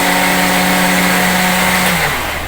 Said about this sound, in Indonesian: telurnya 2 guys, Mei blender ya